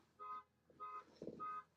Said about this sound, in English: my car alarm just went